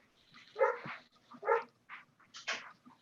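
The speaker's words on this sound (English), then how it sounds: "Somebody's dog's going crazy" A dog nicknamed Buford barks in a short run of four or five sharp, excited yaps, some with a whiny edge. Moderately close and clear, no voices over it.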